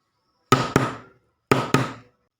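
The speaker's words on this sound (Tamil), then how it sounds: "கதவை வேகமாக தட்டுதுரா" Knocking on a door in a Tamil comedy scene: two quick double raps, each a pair of sharp wooden knocks that ring out briefly, separated by about a second of silence.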